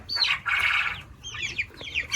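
Fancy Brahma and Silkie chickens cluck and squawk during vaccination, with bursts of wing flapping and scattered high chirps, close and fairly loud, with no talking.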